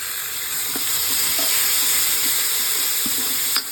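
Tomatoes dropped into a pan of reddened fried onions for jeera aloo, giving a steady, close sizzle with a few light scrapes of stirring throughout.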